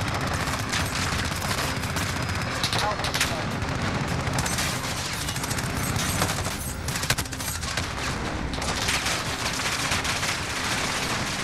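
Dense, rapid gunfire from a Modern Warfare match rattles on without pause for the whole stretch, loud and close, with bursts layered over a steady battle din and some voice-like sound mixed in.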